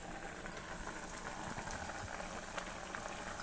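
Semiya vermicelli simmering in water for kesari: a soft, steady bubbling and crackling fizz, faint and continuous, with no voices.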